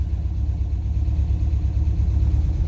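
A 1978 MGB's engine idles on a hot summer day, a close, steady low rumble with an even throbbing pulse and no voices.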